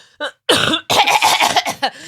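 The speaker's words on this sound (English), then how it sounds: "I've got a cough, hang on." Several harsh, close coughs in quick succession, loud and raspy, with short pauses between bursts.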